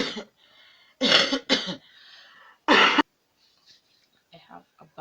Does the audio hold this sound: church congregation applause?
no